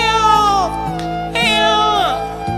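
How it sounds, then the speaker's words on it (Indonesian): A long-haired cat meows three times in a row, loud and close, each call rising and then falling. Steady low room noise runs beneath the calls. "Itu kucing lucu ya,"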